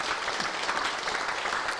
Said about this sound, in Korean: 감사의 영광의 박수 한번 드리겠습니다